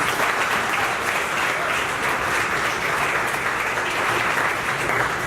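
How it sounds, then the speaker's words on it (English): An audience at a talk gives a round of applause for Nick and IRKO at the close of a Q&A, a dense, even roar of many hands clapping that holds steady from start to finish. "Let's give them a round of applause"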